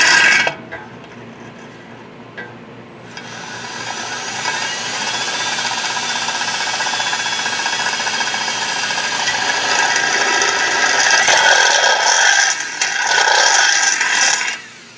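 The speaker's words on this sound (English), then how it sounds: "I'm going to take my drill and drop it down through my pipe and drill a hole" A power drill whirs steadily for several seconds, drilling down through a pipe, its pitch rising and grinding as it bites in, then stops and briefly restarts near the end.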